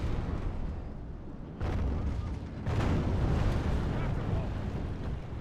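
Siege artillery pounding castle walls in Medieval II: Total War, heavy booming shots and rumbling impacts over a continuous battle din, with two distinct surges.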